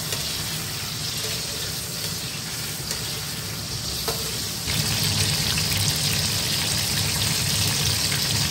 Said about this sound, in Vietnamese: Tiếp theo là mình sẽ chiên ngô và nấm hương ạ.